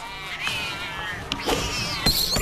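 Cat meows in South Park: The Stick of Truth, a few short drawn-out cries over busy game sound with background noise.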